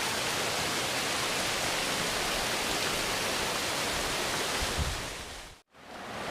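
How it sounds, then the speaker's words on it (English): A big waterfall in the woods near Saluda, North Carolina roars as a loud, steady broadband rush of falling water, continuous for most of the clip before cutting out briefly near the end. "We've got a pretty good height and the big waterfall."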